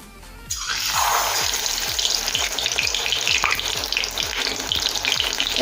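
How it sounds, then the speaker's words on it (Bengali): Battered bottle gourd leaves stuffed with filling hit hot oil and sizzle loudly, a sudden burst of frying that settles into a steady close crackle with faint repeated clicks of a utensil. "পুরে ভরা লাউ পাতা এভাবে একটা ব্যাটারের মধ্যে ডুবিয়ে নেব আর তেলের মধ্যে ছেড়ে দেবো"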